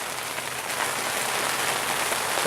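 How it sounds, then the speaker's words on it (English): Rain patters steadily onto open water and a fishing line on a winter night, a dense, even hiss that grows slightly louder toward the end, with no voices. "rain, I think, falling on the line"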